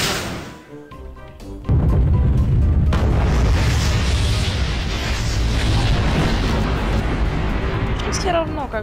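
In Garry's Mod, after a brief lull, a heavy booming bomb explosion erupts and rumbles on loudly, with a voice talking beneath the roar.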